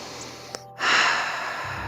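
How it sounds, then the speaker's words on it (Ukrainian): A person takes a slow, natural breath in a yoga breathing exercise, a sharp nasal sniff followed by a long, airy breath close to the microphone, with no talking. "зроби природній натуральний вдих і видих"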